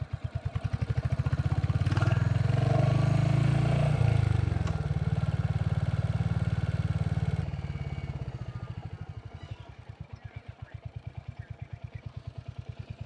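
A 2025 Royal Enfield Hunter 350 rides past with a loud, steady single-cylinder engine thump that swells over the first seconds, holds, then eases off and fades to a quieter idle-like throb, with some clatter and wind noise.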